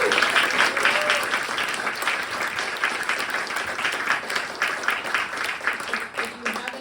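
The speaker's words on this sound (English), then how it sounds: "I want to give a huge round of applause to the Art Center of the Capital Region." Audience at an evening environmental candidate forum in Troy applauding the Art Center of the Capital Region, a steady burst of clapping from a room-sized crowd that carries on for several seconds.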